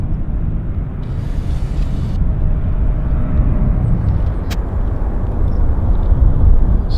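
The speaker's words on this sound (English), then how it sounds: "Got an aircraft on finals" Aircraft on final approach landing at Vancouver Airport, a steady broadband engine roar and rumble that holds loud and continuous throughout, swelling slightly near the end as it passes close.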